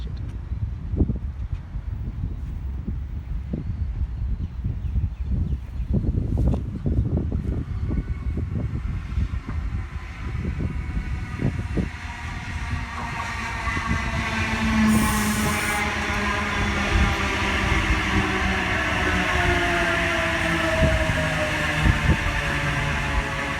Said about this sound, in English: Approaching platform 2, we have a Sydney Central train.